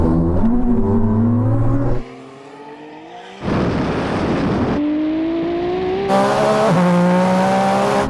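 Ferrari SF90 accelerating hard from 50 km/h in second gear, its engine note climbing loudly and steadily, then cutting out briefly for a shift before roaring back up through further rising pulls.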